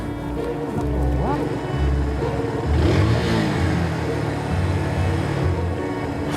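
Motorcycle engine revving nearby, a loud steady mid-pitched drone rising and falling in pitch throughout, with rain-like hiss in the background.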